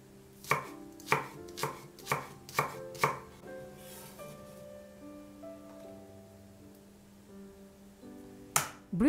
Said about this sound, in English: Mince a green onion.